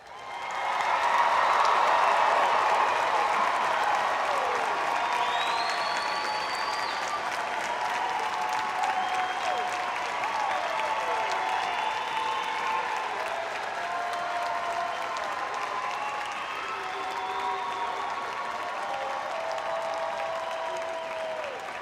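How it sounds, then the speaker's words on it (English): Parents and guests applaud graduates at a high school graduation, a long swell of massed clapping with scattered cheers and whistles, steady and full throughout in a large reverberant space. "Parents and guests, at this time, you may applaud our graduates."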